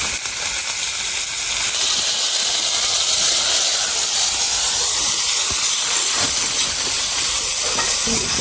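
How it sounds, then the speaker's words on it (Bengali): Chopped onions hit hot oil already holding cumin seeds and dried red chillies for a village-style fish curry, giving a loud, steady, broadband sizzling hiss that runs without a break and without talk. "এবারে এর মধ্যে পেঁয়াজ কুচি দিয়ে দিচ্ছি"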